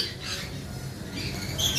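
Albino lovebirds at a bird farm give a few short, shrill squawks over a low background murmur, fairly faint and close by.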